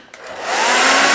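A hair dryer switches on and blows steadily, its whooshing airflow rising over the first half second and then holding at full strength.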